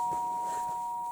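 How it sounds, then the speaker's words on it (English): A single sustained electronic doorbell tone rings steadily indoors, a clear pure pitch held for just over a second at moderate volume. "That's the doorbell."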